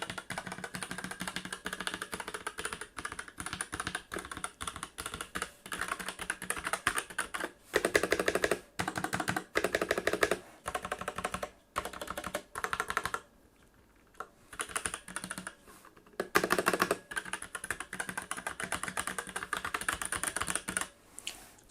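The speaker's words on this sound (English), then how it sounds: "I'll give you an example of what the keys sound like now." Typing on a Surefire Kingpin M2 mechanical keyboard with red linear switches gives a dense, steady clatter of close keystrokes in fast bursts with a few brief pauses.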